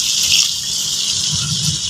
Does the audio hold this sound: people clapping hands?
no